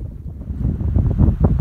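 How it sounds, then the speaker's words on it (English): Strong wind on a high mountain pass after a climb, roaring and buffeting loudly against the microphone in heavy, rising gusts. "Real windy up here after this climb."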